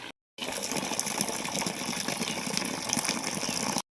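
A steady rush of water gushing from a motor pump outlet into a cattle trough, starting abruptly after a brief pause and running continuously nearby before cutting off.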